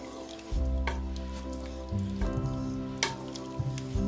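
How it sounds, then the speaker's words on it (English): Tomatoes stirred into a simmering pot of cabbage soup: a sizzling bubbling bed with scraping spoon strokes and a few sharp knocks, close and moderately loud, no talk. "You want to go ahead and give it a good mix."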